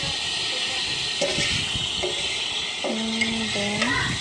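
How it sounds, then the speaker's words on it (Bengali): Rohu fish pieces frying in hot oil with spice masala in a pan: a steady, fairly close sizzle and hiss runs throughout, with a few soft stirring knocks near the end. "মাছগুলো তেলে একটু ভাজা ভাজা করে নেব।"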